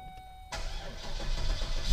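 A stock Cadillac XLR engine cranks and catches after a quiet start, then settles into a steady, fairly subdued idle close to the car.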